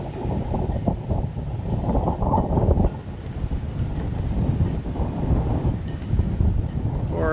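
Strong wind buffets the microphone on Loma de Tiscapa in Nicaragua, a dense low roar that rises and dips in gusts and keeps going throughout.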